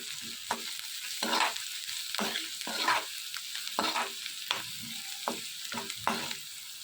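Onions with turmeric and salt fry in a pan for a potato kurma, a steady close sizzle broken by repeated scraping stirs about every half second, with no one speaking.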